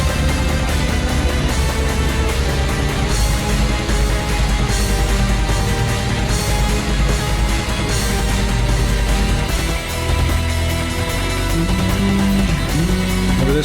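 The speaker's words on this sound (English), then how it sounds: "Quick note, it is programmed drums" Dense, loud metal track from the ULTRAKILL game soundtrack, driven by fast programmed drums with steady kick and cymbal hits under layered instruments, playing continuously without pause.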